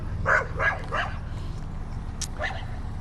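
A dog gives three quick close barks, a pause, then another yip, over low background rumble and a faint voice.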